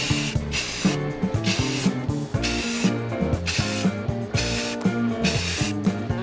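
A spray can lays primer onto a Tikka rifle stock in repeated short hissing bursts, each spray about half a second long, close and loud, separated by brief clicks and handling noises.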